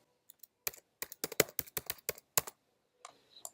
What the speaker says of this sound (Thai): พิมพ์รหัสผ่านอีกทีนึง